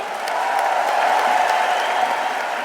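A large crowd at a political rally claps loudly and continuously, a dense wash of applause with faint cheering mixed in.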